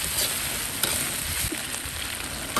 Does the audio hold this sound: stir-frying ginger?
yes